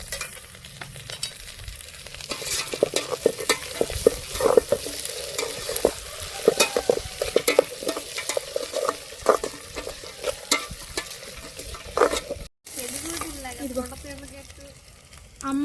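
Vegetables such as beans, potato and carrot sizzle in hot oil in a pan, with frequent scraping stirs from a spoon throughout, close and steady, and a few faint voice sounds.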